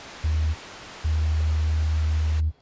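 A Roland SP-404 sampler's Subsonic effect (MFX 23) fires a loud, deep sine-wave tone over a steady noise bed, first a short burst, then a pause, then a longer sustained hum that cuts off sharply.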